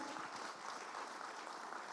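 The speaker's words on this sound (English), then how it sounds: "Give them a round of applause, everybody" Applause for the panelists at a real estate conclave and awards event, a soft, distant wash of clapping heard faintly and evenly over a short stretch.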